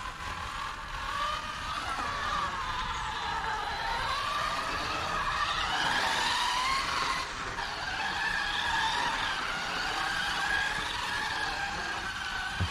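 A custom Arrma Typhon 6S RC car whines at high revs with wavering pitch as its tires scrub and skid, the motor rising and falling continuously.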